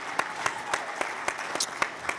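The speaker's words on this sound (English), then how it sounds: "That's got a big round of applause." Audience applause for the Delta Hotels engineering team at a Jeopardy-style session, sparse and uneven claps with a few sharper individual hits, moderately distant and fairly quiet.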